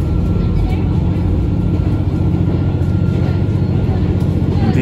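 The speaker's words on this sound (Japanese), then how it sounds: "ディーゼルカーのエンジンがうなっているのが聞こえると思います。" A diesel railcar engine roars steadily on the Kansai Main Line, climbing a steep mountain grade along a river between Kamo and Kasagi, a loud continuous low drone with rumbling running noise throughout.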